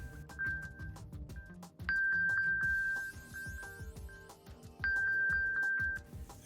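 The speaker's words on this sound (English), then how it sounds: "The Apple Silicon transition has also enabled the playing of sounds using Find My even when the lid of the laptop is closed" A MacBook Pro with Apple Silicon, lid closed, plays its Find My alert: repeated bright chiming tones in short bursts over a rhythmic background beat, clear and fairly quiet.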